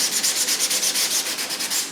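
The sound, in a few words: hand sanding RC submarine hull seam with sandpaper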